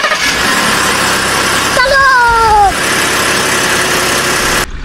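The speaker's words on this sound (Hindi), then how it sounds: "गाड़ी स्टार्ट कर।" Engine start of a vehicle in a JCB and dumper truck driving game: a brief rising whine partway through, then a steady rumbling idle with broadband engine noise.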